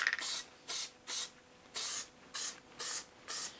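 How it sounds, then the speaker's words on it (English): Spray adhesive hisses from an aerosol can in seven short, even bursts with brief gaps between them. The bursts are close and moderately quiet, and no one speaks. "And I'm going to use some of this spray adhesive."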